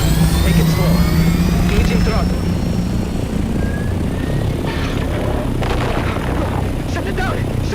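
Engine throttling up in the video game Dune Awakening, a loud, steady mechanical roar with a rising whine that keeps droning, while voices talk over it.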